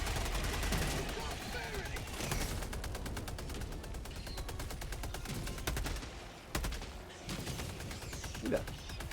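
Gunfire in the Helldivers 2 video game, dense bursts of rapid automatic shots and blasts under a continuous battle roar, with someone talking over it.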